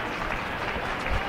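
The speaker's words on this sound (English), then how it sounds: "Hear the applause for Ty Matthews from the Brownsburg fans" Baseball fans at Victory Field clap for a departing Brownsburg pitcher, a short burst of dense applause from a nearby crowd that swells slightly at the end.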